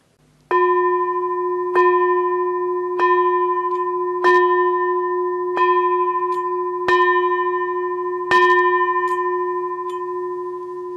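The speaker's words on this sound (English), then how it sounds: "we end by ringing the bell of invincibility for every individual" A ringing bell struck seven times at an even, unhurried pace, each clear metallic strike sounding close and loud and decaying into the next, with no voices.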